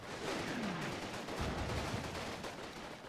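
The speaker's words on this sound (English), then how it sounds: "Artillery is landing somewhere." Artillery shells landing in the World War II strategy game Combat Mission, Market Garden scenario, heard as a faint, distant rumble of overlapping impacts and crackling fire across the whole stretch.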